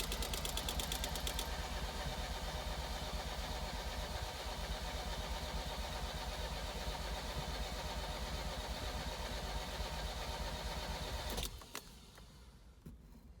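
A Ferrari 308 engine cranks over continuously without catching, a dense grinding whir from the starter that holds steady for about eleven seconds, then cuts off, leaving quiet background.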